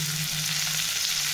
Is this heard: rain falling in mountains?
no